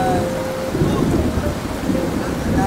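A heavy rainstorm lashes an outdoor stockyard as floodwater rushes past, a loud, continuous roar of pouring rain and churning water with low rumbling underneath and no voices.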